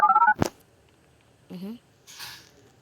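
A phone dials in the Roblox Brookhaven game: a quick series of short electronic tones, then a sharp click, followed by two brief softer noises in otherwise quiet surroundings.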